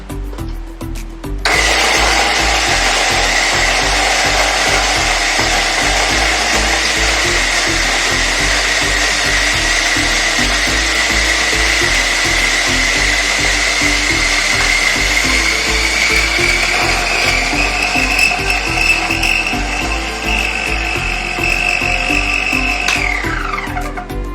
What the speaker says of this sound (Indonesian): Kemudian langsung kita blender.